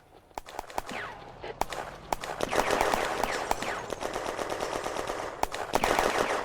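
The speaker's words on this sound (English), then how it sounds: "A shot rings out." Gunfire in a WWII combat game set in May 1940 during an advance on a chateau: sharp rifle and machine-gun shots crack out in rapid, irregular bursts over a steady background roar, some close and loud, others more distant.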